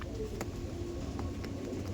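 Andhra red-vein pigeons released from the hand give soft, low coos and calls over a steady outdoor background, fairly faint and continuous for the whole stretch.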